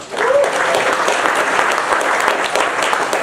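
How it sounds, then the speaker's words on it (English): Comedy club crowd applauding a comedian's introduction, a dense, loud burst of clapping that holds steady throughout, with a brief voice or whistle near the start. "Give Matt a round of applause."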